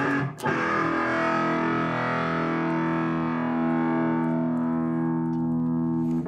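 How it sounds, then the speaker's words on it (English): A heavily distorted guitar chord rings out through a digital distortion effect, struck once and sustaining loudly with a long slow decay. "And we can use it with distortion."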